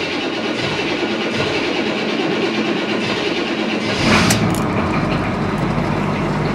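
A cold GMC square body pickup's 6.2L diesel, warmed by a block heater, cranks with a steady rough clatter before catching around the middle and settling into a deeper rumbling run, heard close.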